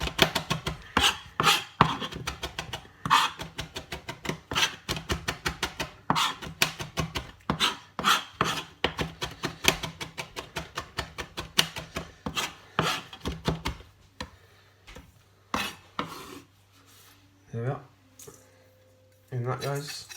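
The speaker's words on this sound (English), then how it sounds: "So I'm just going to break that down, finely chop it." An ingredient for a Cornish pasty chopped finely on a board, fast rhythmic knife strikes for most of the stretch, then slowing to scattered chops and scraping, with a voice talking.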